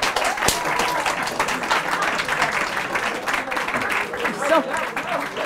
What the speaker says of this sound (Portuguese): Palmas para a malta da Cova da Moura.